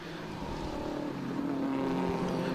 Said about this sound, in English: Comes back down through the gearbox.